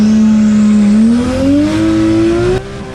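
Six-cylinder all-wheel-drive race car at a small-tire cash race, loud and close, its engine note climbing steadily as it accelerates hard, then cutting off sharply near the end.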